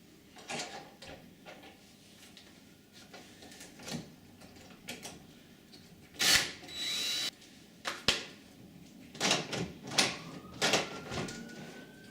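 A cordless drill drives screws into a flexi adjustable handle on a uPVC door in short bursts spread across the clip, each a brief whir close to the mic. Handling clunks and knocks fall between the bursts.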